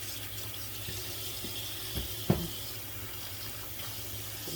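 Tap water running into a kitchen sink to soak dishes, a steady hissing gush at moderate level with a couple of brief knocks and clinks of dishware partway through, no talking.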